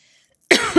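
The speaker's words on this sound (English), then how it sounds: "Confirmation cough." A single sharp, close cough bursts out after a stretch of near silence, loud and brief with a slight second push at the end.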